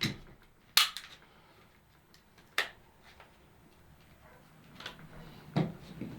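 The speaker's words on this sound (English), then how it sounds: "we're going to just release the slide, pull it back a little bit" A Glock pistol's slide is released and pulled back during an optic mounting, giving a few crisp metallic clacks spaced apart, close and sharp, with quiet gaps between.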